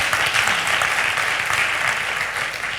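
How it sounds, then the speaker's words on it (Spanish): An audience at a public talk applauds in a steady, dense burst that stays close and loud from start to finish with no pauses. "Pediría un aplauso para Pablo"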